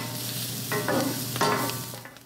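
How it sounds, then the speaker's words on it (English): Brussels sprouts sizzling in butter in a skillet for keto crispy sprouts, giving a steady hiss of frying with a few brief stirring scrapes and clinks, close and fairly loud with no talking. "So just keep the Brussels sprouts in the skillet long enough to melt the butter"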